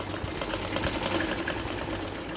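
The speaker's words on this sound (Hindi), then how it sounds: "तो ये हमने सिलाई कर दी इसकी।" A sewing machine stitches lace onto a kameez, a loud, close, continuous mechanical whirr with a fast, even rhythmic chatter throughout and no talking.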